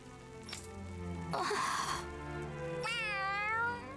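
A cat meowing in the video game Tales of Arise, a drawn-out, rising then falling meow heard up close over a background game soundtrack.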